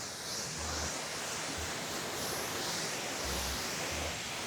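Water sprays steadily over a ceramic-coated car during a rinse, a continuous broad hiss at moderate level with faint low thumps, no voices.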